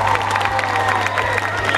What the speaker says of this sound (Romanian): haideți să aplaudăm tare, tare.